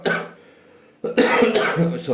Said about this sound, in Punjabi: ਥੋੜੀ ਜਿਹੀ ਨਾ ਮੈਨੂੰ ਖੰਘ ਆ